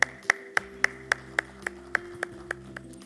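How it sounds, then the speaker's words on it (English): Slow, evenly spaced claps, about a dozen sharp single strikes with a ringing tone under a steady hum in a conference hall, sounding like one person clapping rather than a crowd. "a big round of applause for him"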